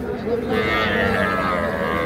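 A young cross-breed bull calf lows at a busy cattle market in Bangladesh, one drawn-out moo close by amid crowd noise and other livestock.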